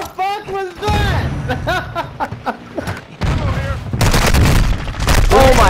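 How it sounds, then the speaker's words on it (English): A grenade explodes in a shooter video game, giving heavy broadband booms in the latter half over excited, overlapping voices and gunfire-like bursts. "Throwing grenade!"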